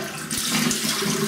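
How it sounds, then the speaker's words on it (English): Tap water runs steadily for a quick rinse during a wet shave with a razor, a continuous close splashing hiss that fills the short moment without any talk. "let me have a quick rinse"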